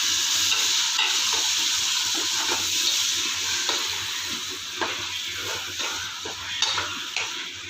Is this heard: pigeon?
no